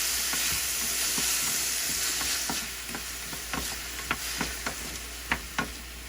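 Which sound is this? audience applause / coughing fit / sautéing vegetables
sautéing vegetables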